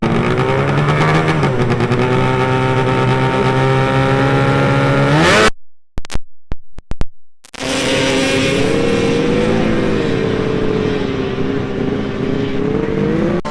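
A cold-engined drag racing car roars loudly and close at the starting line, revving in steady pulses, then cuts out briefly in broken bursts before the engine roar returns.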